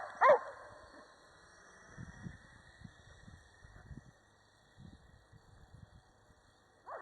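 A Pitbull and a Labrador bark and whimper in short, scattered bursts, moderately close, against quiet background hiss, with one sharper yip near the start.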